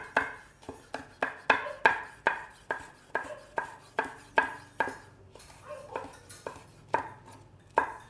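Chili being chopped into long strips for vegan pakoras, a knife striking a board in a quick, steady series of crisp close taps with a short pause partway through and no voices.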